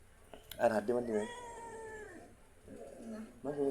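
A cat meows in a home while a young girl plays with it. Several drawn-out, wavering meows stand out clearly between nearby voices, which talk over much of the clip.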